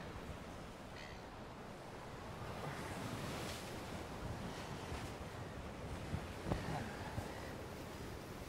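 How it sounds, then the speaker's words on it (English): Steady seaside wind rushes across the microphone over a broad bed of ocean surf, with a few brief knocks and rustles near the end. "that wind's a bit chilling."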